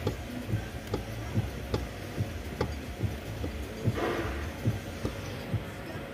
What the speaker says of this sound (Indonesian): bunyi tek-tek ini khas banget nih bunyi damper stir hancur